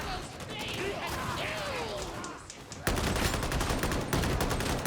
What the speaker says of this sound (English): I don't like the auto gun.